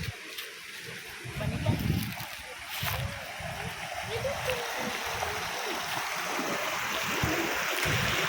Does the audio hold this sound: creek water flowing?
yes